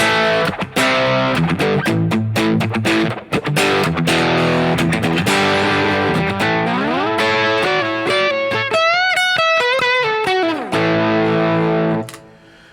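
A heavily distorted Fender Telecaster electric guitar plays loud rock chords and bends, ending with sustained wailing notes that fade out.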